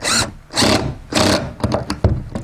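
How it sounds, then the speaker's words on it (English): A power driver runs a screw through LP siding into a shed's top plate, giving three long whirring bursts followed by a few shorter rapid pulses, close and loud. "or screw into the top plate"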